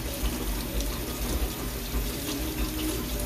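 Fruit rinsed under a running kitchen tap, a steady, close, broadband splash and hiss of water hitting the fruit and sink, continuous throughout with no talking.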